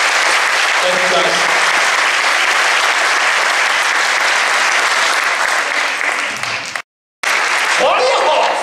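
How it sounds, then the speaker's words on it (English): Sustained round of applause from an awards-night audience, loud dense clapping throughout with a few faint voices mixed in and a brief dropout near the end. "Nice round of applause for the fine folks at Life Touch."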